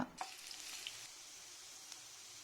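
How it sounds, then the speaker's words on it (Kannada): Chopped onions frying in hot cooking oil in a pan, a soft steady sizzle with a few small pops and clicks near the start, faint and close, no voices. "ಅಡುಗೆ ಎಣ್ಣೆ ಬಿಸಿಯಾದ ನಂತರ ಪ್ಯಾನ್ಗೆ ಹೆಚ್ಚಿಟ್ಟುಕೊಂಡ ಈರುಳ್ಳಿಯನ್ನು ಸೇರಿಸಿಕೊಂಡು ಈರುಳ್ಳಿ ತಿಳಿ ಕಂದು ಬಣ್ಣ ಬರುವವರೆಗೂ ಹುರಿದುಕೊಳ್ಳೋಣ"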